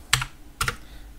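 Two quick bursts of keystrokes on a computer keyboard as a terminal install command is typed on a Debian system, close and crisp, with no talking.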